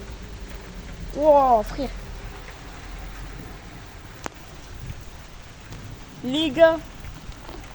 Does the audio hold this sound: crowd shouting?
no